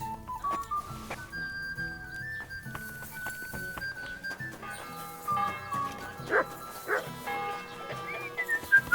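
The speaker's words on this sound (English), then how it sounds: "Call back that dog, or I'll report you" In a medieval village scene from the game Kingdom Come: Deliverance II, a dog yaps and whimpers in short bursts amid music, clopping hooves and background ambience, with the barks growing more insistent toward the end.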